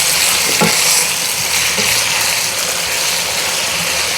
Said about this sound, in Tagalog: So, ilagay natin para magisa din yung karne.